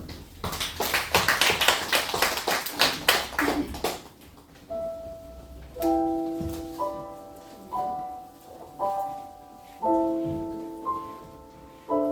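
A quick burst of roughly a dozen claps at a church service, then soft keyboard or organ chords begin playing in a slow, steady rhythm.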